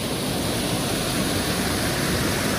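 A Luxembourg waterfall roars in a loud, steady broadband rush of falling water, close and unbroken, with no voices over it.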